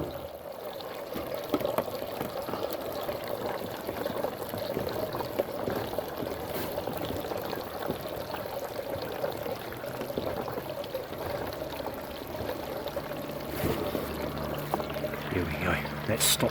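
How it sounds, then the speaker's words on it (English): Water running into a filling hot water tank, a steady pouring and trickling rush that continues without a break, with occasional faint knocks and clatter near the end. "I can hear the water running. It is filling."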